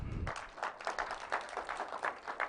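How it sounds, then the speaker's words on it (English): Applause from an audience at an annual general meeting, a moderate, slightly distant patter of clapping hands with rhythmic bursts, following a brief low thump at the start. "So may we give him a round of applause."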